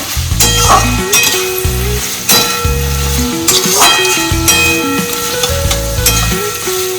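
Chilli egg stir-fried Tangra style in a pan over a raised gas flame, a steady loud sizzle with repeated clinks and scrapes of stirring, and music playing over the frying throughout.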